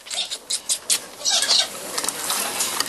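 Wings of a Moluccan or Triton cockatoo flap in bursts of rustling whooshes, close and fairly loud, with no talking.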